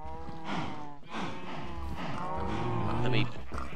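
Sheep in the Minecraft video game give repeated, drawn-out harmonic bleats that run through the whole clip at a steady, fairly loud level.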